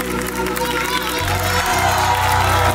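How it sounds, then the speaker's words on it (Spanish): Studio audience applauding on the El Gran Show television stage, a dense, steady wash of clapping and crowd noise that stays loud throughout with a low musical hum underneath. "El aplauso fuerte"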